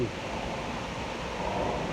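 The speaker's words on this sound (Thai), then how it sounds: "ทะเลครับ" Sea waves off Pattaya wash in as a soft, continuous rushing hiss, faint and unbroken for a brief moment.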